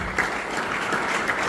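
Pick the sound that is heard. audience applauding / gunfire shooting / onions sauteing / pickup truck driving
audience applauding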